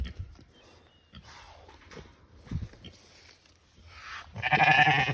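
Sheep on a homestead bleat near the end, a loud bleating burst rising over quieter farmyard sounds and faint scattered animal noises.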